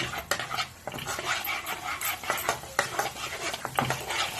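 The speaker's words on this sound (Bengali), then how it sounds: "আর একটু টক দই দিয়ে খুব ভালো করে মিশিয়ে দিচ্ছি" Spoon scrapes and taps against a pan as sour curd is stirred into a spice mixture, with irregular clinking strokes close by and no talk.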